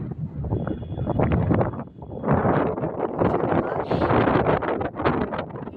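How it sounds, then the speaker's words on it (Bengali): Strong wind buffeting the microphone on a cloud-covered hilltop in Chikmagalur, Karnataka, loud rushing gusts that rise and fall nearly continuously with a brief lull midway. "হাওয়া দাঁড়াতে দিচ্ছে না।"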